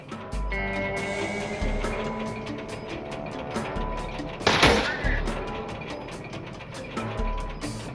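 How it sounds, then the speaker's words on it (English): Rifle fire from the video game SteamWorld Heist 2, a loud burst of shots near the middle set against continuous music and game effects that run throughout. "will need to reload her rifle during combat"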